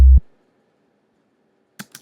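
An 808 bass note from a sampler in a trap beat with a very short release: one loud, deep thump that stops abruptly, followed by two faint clicks near the end.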